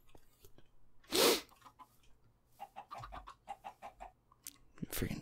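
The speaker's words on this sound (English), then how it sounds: "Freaking chickens" Chickens in the Minecraft video game let out a quick run of short, clipped clucks in a rapid pulsing series, preceded by a loud breathy burst and followed by another near the end.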